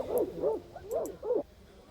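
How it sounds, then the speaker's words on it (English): Distant dogs bark and yip in a video game scene from Reverse: 1999, four soft muffled barks in a steady rhythm, then silence. "Pickles hears the barking of the dogs in the distance."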